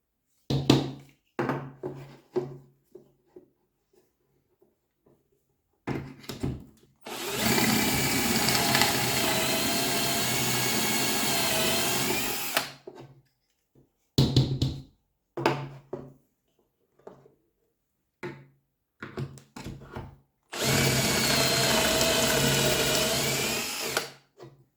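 Wood is drilled for dowel holes through a dowel jig with a power drill, giving two sustained loud bursts of about five and four seconds, each set among scattered clicks, taps and handling knocks.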